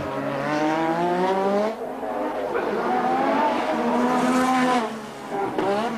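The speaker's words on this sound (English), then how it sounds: "You see Manson, he was weaving about. That's to try and get a little bit more heat into the tyres to warm them up." A Formula 1 V6 turbo race car engine drones loudly, its pitch rising and falling in repeated revving sweeps as the car runs on track.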